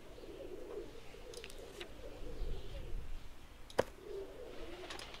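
Pigeons coo softly in the Randal's Monday game, a low gentle warble over quiet background, with a single sharp click partway through.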